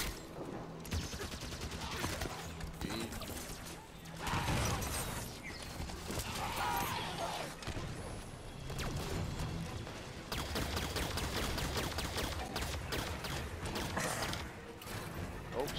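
Sniper and rifle gunfire in a Halo 5: Guardians firefight on Legendary difficulty, with repeated loud shots and rattling bursts over dense battle noise and mechanical clatter, continuing throughout.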